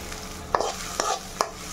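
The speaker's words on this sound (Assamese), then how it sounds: "অলপ ব্ৰাউন কালাৰ হোৱাকৈ ভাজিম দুইখিনি মিলাই একেলগে পিঁয়াজৰ লগতে ভাজ খাব" Nutrela soya chunks frying with onions in a pan give a soft sizzle, broken by three or four sharp scraping stirs of a spatula against the pan, heard close up.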